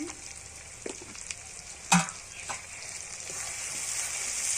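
Desi (country) chicken sizzles and fries in a pan with salt, a steady hiss running throughout, broken by a few sharp stirring clatters and one louder scrape near the middle.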